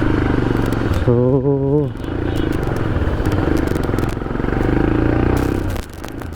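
A 2021 Royal Enfield Himalayan BS6 motorcycle with a stalling problem idles close by, its engine thumping steadily and loudly, with a brief rising rev as the throttle is twisted and someone speaking over it.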